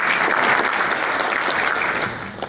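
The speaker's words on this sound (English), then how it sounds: "So I would like a big round of applause for Zaffa for the excellent work that" Audience at a groundbreaking ceremony dinner applauds in a steady, dense wash of clapping that holds strong, then tapers slightly near the end.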